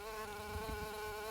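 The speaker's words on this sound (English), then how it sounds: "All the pollinating insects, big one here, big bee" A big bee buzzes among flowers on cultivated land planted with fruit trees, a steady, close, continuous hum with no pauses and no voices.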